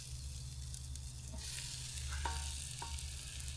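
Spice-marinated chicken sizzles and fries steadily in a pan over a Trangia camping stove, with a loud continuous crackle and brief stirring scrapes close by, no voices.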